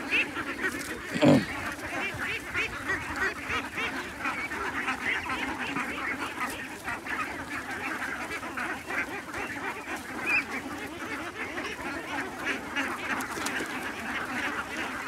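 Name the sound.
ducks quacking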